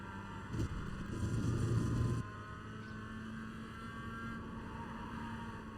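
Mazda MX-5 race cars on the Lime Rock circuit in the sim racing game iRacing: a steady, humming engine drone with a louder, rougher burst early on before settling back to an even tone.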